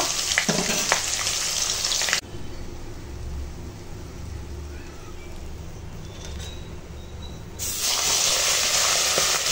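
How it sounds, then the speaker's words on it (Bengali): Loud crackling sizzle of rohu fish frying in hot oil at the start and end, with a quieter stretch of low rumbling in between. "বাকি মাছগুলো ভেজে নেব"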